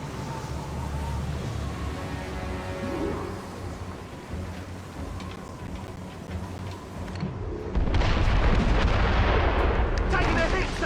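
Mortar fire in a naval battle in the video game Assassin's Creed Rogue: dense rumbling gunfire throughout, swelling into a louder, closer barrage of booms and crackling impacts in the final seconds.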